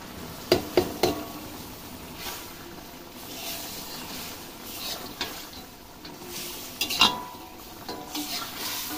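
Spices stirred in a kadai for chicken curry: garlic paste, ginger, ground coriander and cumin. A spoon scrapes and taps against the pan in scattered clicks over a low, steady sizzle, with no talking.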